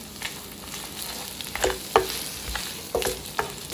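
Sliced onions and a handful of plain cashews sauté lightly in a pan, a close, soft frying sizzle punctuated by several sharp stirring scrapes and clinks, without speech.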